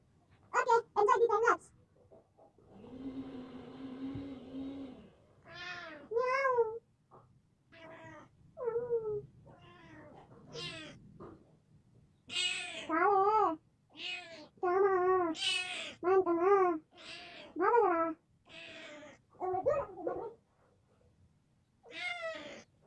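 A domestic cat meows repeatedly in a series of close, clear cries with short gaps, one drawn-out harsh yowl early on and brief background voices between calls.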